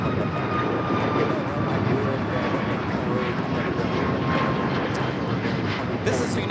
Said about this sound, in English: 2443 taking off to Cleveland on the MAX 8